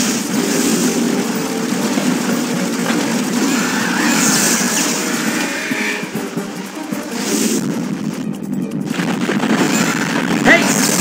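Gunfire in the PS2 video game Bionicle, a steady dense barrage running throughout amid loud engine-like game noise and effects.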